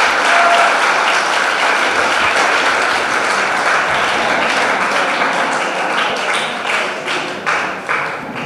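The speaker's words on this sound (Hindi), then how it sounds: "इनके लिए आप ताली बजाइए।" Sustained audience applause for a top-ranked student at a school prize ceremony, dense steady clapping from many hands that thins and turns patchier toward the end.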